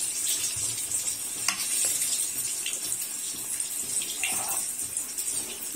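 Masala spices dropped into a hot pan for tea-shop samosa filling and stirred, giving a steady, close sizzle with scraping stirs throughout and no talking.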